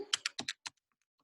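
Fingers tapping keys on a calculator keypad, five or six quick distinct clicks in a short irregular burst, close and clear, then silence.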